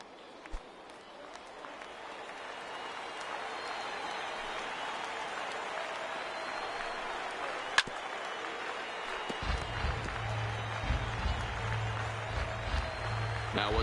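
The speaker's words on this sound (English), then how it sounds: "Now what's left of this crowd this afternoon gets to their feet." In the MLB The Show 19 baseball video game, an afternoon stadium crowd rises to its feet, its broad cheering roar swelling steadily louder over the stretch, with a sharp crack standing out midway.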